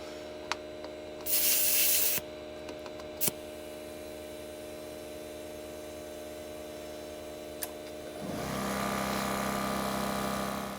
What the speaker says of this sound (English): it's probably going to take a little bit to check all 4 of them and air them up